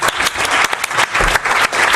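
Press conference audience at Manchester City applauding after a 1-2 loss to Aston Villa, marking Pep Guardiola's final press conference; dense, steady clapping fills the room loudly and close throughout, with sharper bursts of individual claps and no voices.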